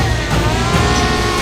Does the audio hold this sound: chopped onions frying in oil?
no